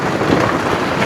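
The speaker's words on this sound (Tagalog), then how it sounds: "Again na naman yung malakas na ulan." Heavy storm rain pours in a loud, dense, steady roar around a coastal motorcycle campsite under a tarp during a typhoon in Pangasinan, with no voices.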